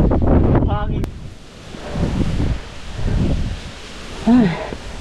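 Gusts of wind on the summit of Mount Batulao rise and fall in a few broad surges, with voices and a brief shout heard over it.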